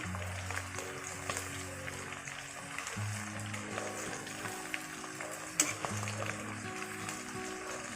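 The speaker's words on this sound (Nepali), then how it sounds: "अब चाहिँ यो मासु फ्राई भएको पनि 10 मिनट भयो।" Chicken pieces frying in a pan Nepali style, a steady low sizzle and crackle running throughout, close and moderate, with occasional stirring knocks and a faint voice underneath.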